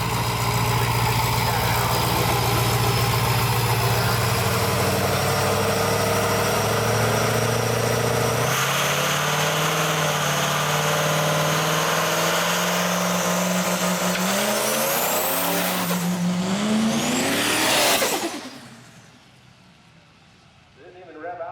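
A diesel truck at a drag strip truck meet revs hard and loud with rising engine pitch through the gears, building to a high whine before dropping away abruptly near the end.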